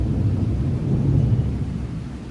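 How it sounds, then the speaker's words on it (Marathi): A deep, rolling thunder rumbles as rain begins to fall, loud and continuous in the low range for the whole moment, with no voices. "फायनली पाऊस सुरू झालाय"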